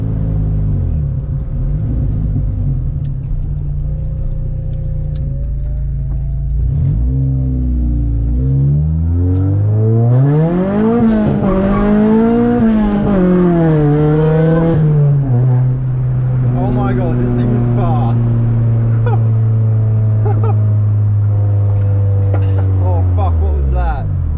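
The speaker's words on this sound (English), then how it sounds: "Alright, we're gonna do another first gear pull." A cheap Honda Civic fitted with a K24 engine pulls hard in first gear: a loud, close engine note climbs steeply in pitch as it revs out, then settles to a steadier drone.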